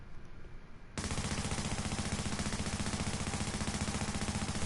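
Rapid automatic fire from an MP5 submachine gun in the video game The Division, a loud continuous burst that starts abruptly after a quieter moment and keeps a fast, even rhythm to the end.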